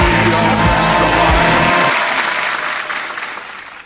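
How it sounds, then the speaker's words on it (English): A short burst of applause rises over a brief low musical tone that cuts off early, the clapping carrying on alone and fading out over a few seconds. "round of applause for"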